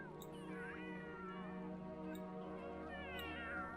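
A marsh cat in The Sims 3 meows repeatedly, with rising and falling drawn-out cries over a steady ambient game-music bed; the calls are clear and fairly close.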